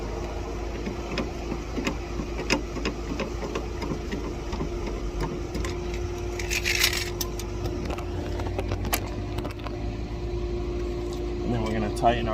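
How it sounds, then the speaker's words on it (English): A car jack being cranked down beside a Volkswagen Jetta during a roadside flat tire change, giving a run of small repeated mechanical clicks and rattles over a steady low background hum. "we're just going to crank the jack back down like so"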